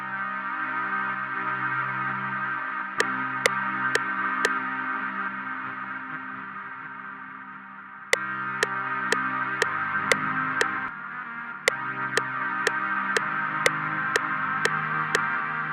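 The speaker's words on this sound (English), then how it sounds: "So let's see how this triad actually sounds." A triad chord on a keyboard with its middle note raised an octave, sounding as sustained, bright layered tones with a steady bed underneath, while crisp hi-hat-like ticks come in and out over it. Played loud and alone, no talking.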